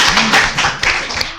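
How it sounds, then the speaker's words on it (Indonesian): An audience at an Islamic student association gathering claps together: a brief, loud burst of dense, close-up hand clapping with no talking. "Tepuk tangan dulu dong."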